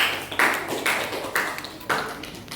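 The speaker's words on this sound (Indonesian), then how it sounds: "tepuk tangan untuk kelompok Karel" A small class applauds a student group, a few sparse, distinct claps in loose bursts, fairly quiet and close, with no speech over them.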